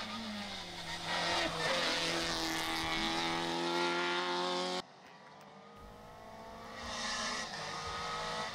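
A Renault Twingo RS R2 rally car at a rallysprint screams at high revs, drops off abruptly, then climbs again, with faint tire noise and a distant commentator's voice.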